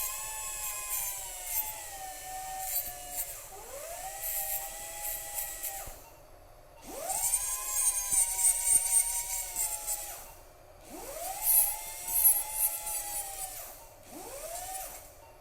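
A dental drill grinds down an implant crown in repeated bursts, each whine rising sharply in pitch, steadying, then cutting off, with short quiet gaps between about four passes.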